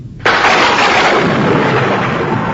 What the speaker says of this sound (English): there was a great clap of thunder